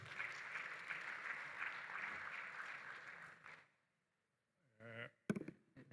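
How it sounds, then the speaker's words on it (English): An audience applauds steadily for a few seconds, then the clapping stops abruptly, followed by silence and a brief voice. "Please give him a round of applause."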